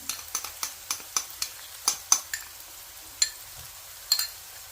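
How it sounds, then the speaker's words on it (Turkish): Tomato and pepper paste fries in butter while a spoon stirs it. Quiet sizzling sits under a steady run of crisp utensil clicks and scrapes against the pan, close up, with no voices. "İkisini birlikte salçalarımızın kokusu çıkana kadar güzelce kavuralım."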